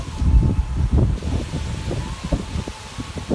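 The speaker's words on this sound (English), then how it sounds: "really windy" Blustery wind buffets the microphone in low rumbling gusts, steady and close throughout with no voices.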